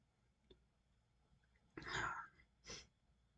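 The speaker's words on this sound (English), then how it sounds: "I gotta sneeze, it won't come out." A person sneezes close to the microphone: a long, forceful burst, then a shorter second burst a moment later, against a quiet room.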